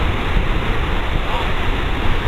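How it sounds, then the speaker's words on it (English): A flooding river in British Columbia rushes past, a loud, dense, unbroken roar of fast-moving water. "here is a river in British Columbia that is in flood stage"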